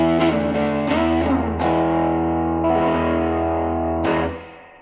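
Electric guitar through the green channel of an Earthquaker Devices Gray Channel overdrive pedal, with several loud, sustained, saturated chords and strums ringing together, played alone up close and fading at the end.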